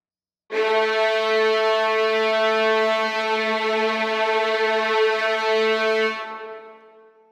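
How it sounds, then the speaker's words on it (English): A single sustained bowed string-orchestra note holds steady, then gains a gentle wavering vibrato before fading out; no voices. "Here's a note with no vibrato in the beginning, but with some in the end so you can hear the difference"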